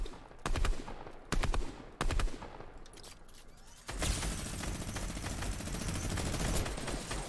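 Minigun fire in Fortnite: a few short loud bursts, then a long continuous stream of rapid shots rattling on without pause, close and dominant.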